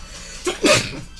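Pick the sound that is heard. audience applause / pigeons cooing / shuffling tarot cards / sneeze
sneeze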